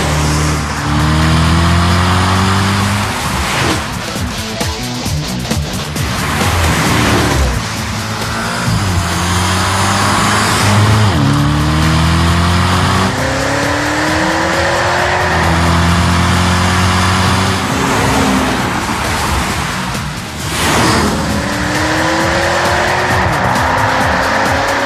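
BMW Alpina B6 Bi-Turbo with an Akrapovič titanium exhaust, a 500-plus horsepower Gran Turismo, roars loud and close through repeated rising acceleration runs and gear changes, with tire squeal and brief dips between pulls.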